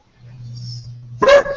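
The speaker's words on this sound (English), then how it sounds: "Crazy dog." A dog gives a low, drawn-out growl or whine that rises into one sharp, loud bark close by, with no talking.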